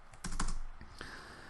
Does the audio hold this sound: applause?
no